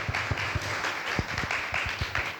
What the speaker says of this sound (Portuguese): Palmas para o Alberto